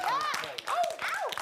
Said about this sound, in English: Let's give that a round of applause as well.